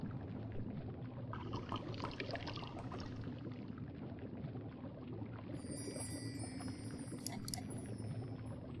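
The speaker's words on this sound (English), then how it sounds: "I'll just pour the finished potion into one of these vials." Liquid poured from a finished potion into a vial in the adventure game The Longest Journey, a steady wet pour and trickle within dense game ambience, with brief brighter clinks late on.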